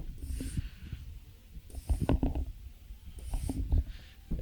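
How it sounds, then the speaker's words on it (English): A hand pump charging an Umarex Origin PCP air rifle, heard as three slow, rhythmic strokes, each a muffled low thump with a breathy hiss of air, fairly close and with no talking. "then start a pumping. And it takes a couple pumps to start building pressure in the pump itself."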